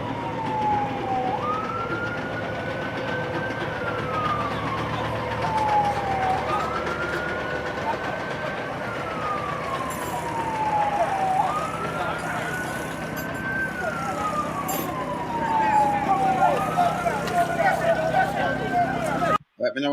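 Fire engine siren wailing at a bus crash scene, its pitch sweeping up and down in slow repeated cycles, loud and steady over a constant rumble of traffic and crowd noise.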